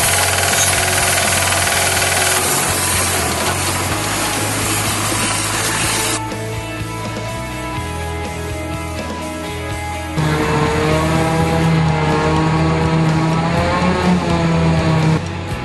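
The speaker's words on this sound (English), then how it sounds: "Silage for a clamp is picked up and blown into trailers by this machine, a forage harvester." A forage harvester working silage for a clamp and blowing it into trailers gives a loud, continuous mechanical roar and clatter, with the engine pitch shifting partway through; no one speaks.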